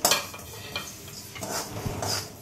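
Sesame seeds being dry-roasted in a pan and stirred with a utensil, giving scraping, rustling swishes and light metallic clinks in a quick uneven rhythm, close and fairly loud.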